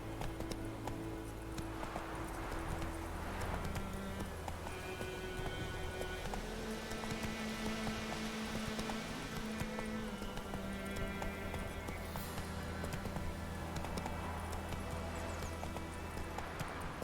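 Roach the horse gallops in The Witcher 3 video game, a steady rhythmic clip-clop of hooves over continuous rain-like hiss and layered game music, with no talk.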